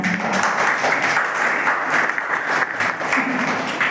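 Audience applause welcomes guests onto the stage at a school farewell ceremony, a dense, continuous wash of clapping from many hands that holds steady and fairly loud throughout.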